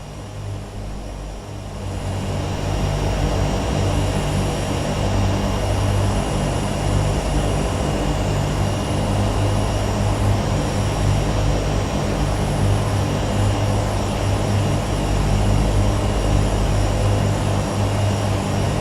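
Twin turboprop engines of a RealAir Turbine Duke spool up to high idle on the runway, rising from a quieter whine into a steady, loud, droning propeller roar that holds evenly with a faint high tonal whine.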